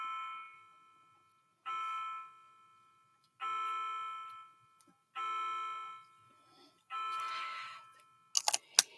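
A clock chimes five bells in a quiet room, each ring a clear sustained tone that decays slowly, evenly spaced about every 1.7 seconds, followed by a few short sharp knocks at the end.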